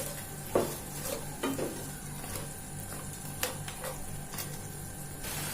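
Maggi noodles stirred and mixed in a frying pan, with a soft continuous sizzle under irregular scraping and clicking spoon strokes, close by and moderately quiet, with a faint steady hum behind.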